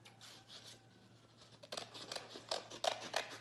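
Scissors snip through paper while a heart shape is cut out for a Mother's Day craft, several crisp, quiet cuts in a short irregular series, close by in a quiet room.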